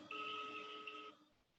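A telephone ringing on an outgoing call, heard as one long, steady electronic ring tone of about a second, faint and alone, then fading.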